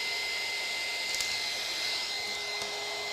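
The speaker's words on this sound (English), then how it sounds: "I need a heat gun." A heat gun blows hot air for shrink-plastic crafting, a steady, loud airy whoosh with a broad hiss that holds evenly throughout, alone without any talking.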